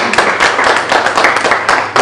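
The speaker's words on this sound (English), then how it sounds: "Clap for her." An audience at an African indie book prize award ceremony claps for a young girl, a loud, close burst of quick overlapping handclaps with rhythmic pulses running throughout.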